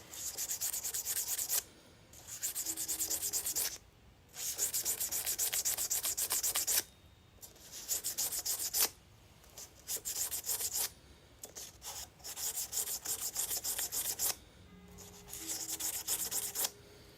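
Sandpaper of different grits rubs back and forth over cedar by hand in a wood shop, steady raspy strokes in repeated bursts with short pauses between, close and moderately loud.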